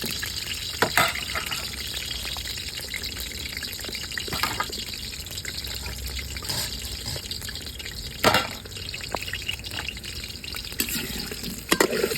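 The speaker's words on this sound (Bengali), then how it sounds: "আলুগুলো দিয়ে দিচ্ছি এখন তেলটা গরম হয়ে গেছে" Potatoes fry in hot oil outdoors at night: a steady, dense sizzle runs throughout, broken by a few sharper crackles and spatters.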